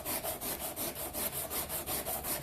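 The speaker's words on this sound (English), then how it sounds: "periodically just wet your sandpaper" Wet sandpaper rubbing back and forth on an aluminum part being polished by hand, a steady rhythmic scrubbing with about ten even strokes, close and fairly quiet, no voices.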